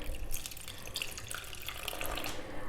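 Water trickles steadily into flour, added gradually for a pan-cooked pizza dough, a continuous close-up splashing pour with no talking.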